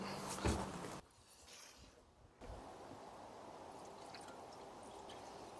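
Seafoam treatment trickles and splashes into the cylinders of a 1946 Ford Super Deluxe flathead V8, a loud gurgling pour up front, a brief quieter pause, then a steady liquid hiss and dribble.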